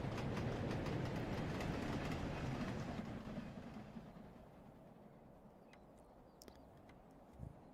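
A steam train on a rail tour in Train Sim World 2 rumbles past with a heavy, steady roar that slowly fades into the distance, leaving faint ambient sounds and a brief knock near the end.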